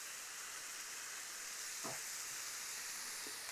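Ginger garlic paste fries in a pan before the eggs go in, giving a steady, dense sizzling hiss at low volume with one brief scraping stir partway through.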